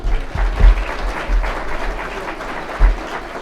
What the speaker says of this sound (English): Let's have a massive round of applause for Callum.